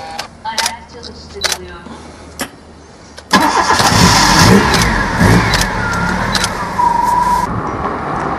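A car engine cranks and starts after a few quiet clicks and thumps, then settles into a loud, steady rumble that stays up close for several seconds.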